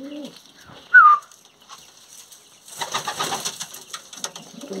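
Pigeons coo softly in a loft with a louder single call early on, followed by rustling and fluttering movement, fairly close in a quiet space.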